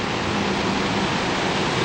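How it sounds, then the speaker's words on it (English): A major waterfall roars directly below a freeway bridge in a narrow gorge, dropping about 40 feet; the sound is a loud, constant broadband rush that fills the scene with no voices. "there's a major waterfall directly below the bridge here"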